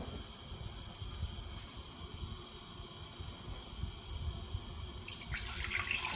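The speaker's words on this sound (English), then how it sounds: "grab 450 ml of cold water and pour in a pan" Cold water runs and pours steadily into a pan with a low, rushing sound, growing a bit brighter and splashier toward the end.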